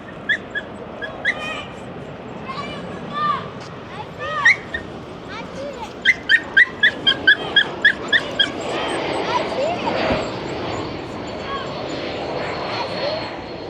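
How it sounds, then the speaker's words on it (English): Small yippy dogs yap in fast, sharp bursts near Castle Island in Boston Harbor, loud and close, with a steady run of high barks midway, people talking, and an aircraft droning overhead. "Oh, look at the yippy dogs."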